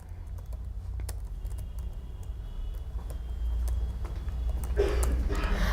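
Typing on a computer keyboard while entering a ledger in accounting software, with irregular light clicks and taps, close and alone with no voices.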